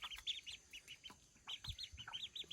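Ducklings peep in quick, high chirps that come in clusters, close by and fairly soft, with light rustling beneath.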